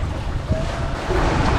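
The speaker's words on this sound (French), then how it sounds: "la mer est un peu plus formée, les vagues sont un peu plus hautes" Rough Atlantic Ocean swells around two and a half metres high wash against a sailboat far out at sea, a steady broadband rush of water and wind noise across the microphone with a slight surge near the end.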